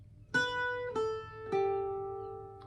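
Irish bouzouki plucks three separate notes of the tune Cliffs of Moher, each attack ringing out and sustaining into the next in a slow, even sequence, played close and clear with no voice.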